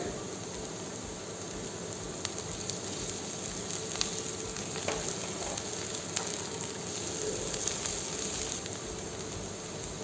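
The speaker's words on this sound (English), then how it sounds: "Now add fine chopped garlic" Finely chopped garlic sautéing in a pan for Mexican chilaquiles gives a soft, continuous sizzle with occasional sharp pops and crackles, fairly quiet and even across the whole stretch, with no voices.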